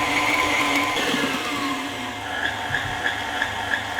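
An electric mixer whirs steadily, beating eggs into cheesecake batter, with a continuous loud motor hum and faint higher whine throughout.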